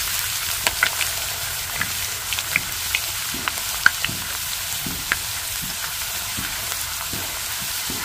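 Potato slices for crisps fry steadily in very hot oil, giving a continuous close sizzle with scattered small pops and crackles throughout, no voices present.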